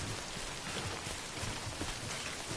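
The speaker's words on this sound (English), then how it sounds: "It rains a lot, and then I never can find shelter from the actual storm." Steady, dense rainfall from the video game Death Stranding, a continuous broadband hiss of drops on surfaces filling the whole stretch at an even level, with no voices and no thunder.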